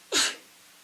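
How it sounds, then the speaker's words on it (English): A single sharp sneeze bursts out close by, a quick breathy snap that fades into quiet. "I gotta sneeze."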